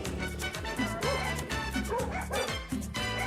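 Dog barking in The Sims, a run of repeated yippy barks and whimpers in quick rhythmic succession, close and prominent, with no talking over it.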